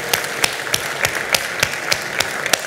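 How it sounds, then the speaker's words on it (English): A crowd gives applause to speakers at a hotel-industry talk, a steady bed of clapping with sharp, evenly spaced individual claps standing out near the microphone throughout. "Guys, please give our gentlemen a round of applause."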